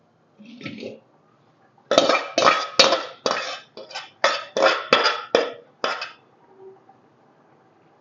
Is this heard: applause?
no